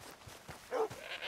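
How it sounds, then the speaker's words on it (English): Goat bleating in Red Dead Redemption 2, a short wavering bleat rising over faint background ambience, heard once near the middle. "Goats."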